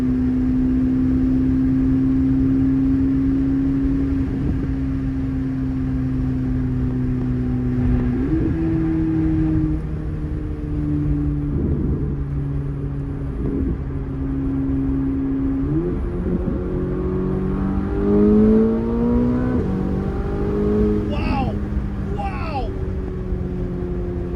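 A turbocharged performance car engine revs and pulls hard, its loud tonal drone climbing through repeated gear steps, while a person talks excitedly over it.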